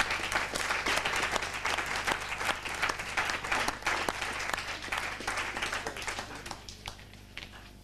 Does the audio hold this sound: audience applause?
yes